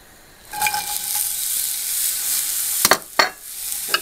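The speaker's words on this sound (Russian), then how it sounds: "Нальем растительного масла на сковородку. И на горячую сковородочку отправляем лук." Chopped onion goes into hot vegetable oil in a pan and fries with a bright, steady sizzle that starts suddenly and stays loud, broken by a couple of sharp stirring scrapes.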